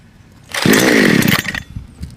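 A Homdox CS5200 52cc two-stroke gas chainsaw fires up from a cold start, a loud, rising engine burst of about a second that sputters and dies back down.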